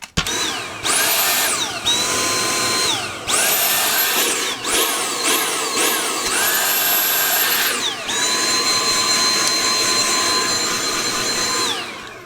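A repaired Dyson V8 cordless vacuum cleaner whines up and down in several short bursts, then settles into a long, steady high-pitched run, close and loud.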